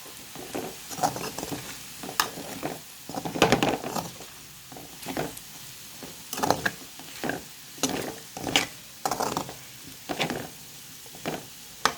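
Potato fry with chili powder stirred in a pan on low heat: repeated scraping and stirring strokes over a soft sizzle, coming in irregular bursts of rhythmic patter.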